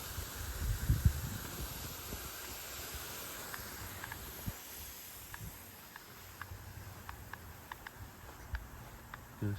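K-Rain lawn sprinkler spraying water outdoors at a house in spring, a steady broad hiss of spray with faint ticking clicks repeating in the background.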